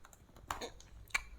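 A few light keystrokes tapped on a computer keyboard while typing a search into a web browser, quiet and close with short gaps between presses.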